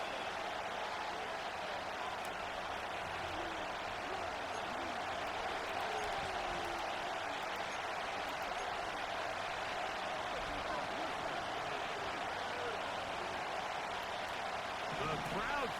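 Steady roar of a football stadium crowd ahead of a third-and-long play, a dense sustained wash of cheering noise with a commentator talking over it.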